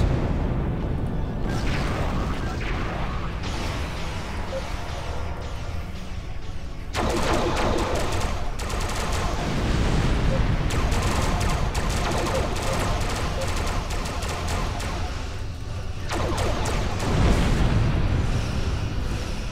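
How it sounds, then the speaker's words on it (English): Starship weapons fire continuously from a Kelvin Timeline heavy command cruiser in Star Trek Online, a dense barrage of booming blasts and explosions against a dreadnought and battleship, loud and sustained with repeated heavier bursts. "it just doesn't sound like my weapons are doing a whole lot, does it?"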